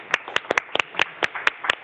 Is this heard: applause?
yes